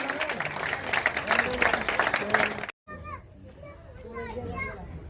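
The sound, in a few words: loud applause for Gajraj Kanwar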